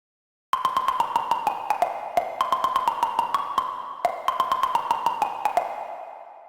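Synthesizer pluck with reverb, a bright run of short pinging notes in a quick, even pattern that carries a lingering reverberant tail, fading out alone at the end.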